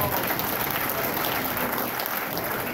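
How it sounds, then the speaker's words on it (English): Dense crowd applause for a high school runner honoured at an awards gathering, loud and continuous, with cheering blended into the steady roar of clapping. "that's a round of applause right there"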